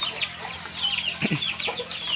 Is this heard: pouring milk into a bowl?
no